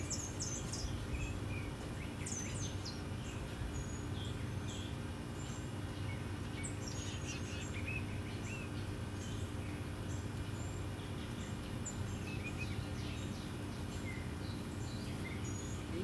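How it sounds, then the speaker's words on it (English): Scattered bird chirps and tweets ring out in a garden over a steady air conditioner hum, with insects faintly buzzing in the background throughout. "Birds are out here and they are not thinking about me."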